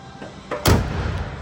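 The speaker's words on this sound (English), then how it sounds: "Doors open and close nicely." The door of a 1970 Oldsmobile Cutlass Supreme convertible swings shut with a single solid thump after a brief creak, heard close against faint background noise.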